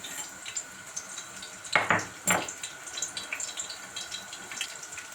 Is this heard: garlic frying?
yes